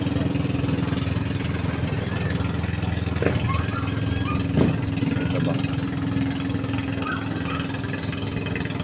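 A small fishing boat engine idles steadily up close at a fish port, a continuous low chugging hum that holds the same pitch throughout with a couple of faint knocks.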